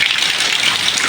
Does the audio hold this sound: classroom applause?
no